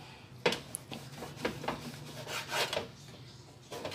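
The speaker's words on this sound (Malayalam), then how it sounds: "ഇനി ഈ ബ്രെഡ് പീസസ് നമുക്ക് സൈഡ് കട്ട് ചെയ്ത് എടുക്കാം" A knife trims the sides off bread slices, making several short, soft scraping and rubbing strokes close by, with uneven rhythm and no talk.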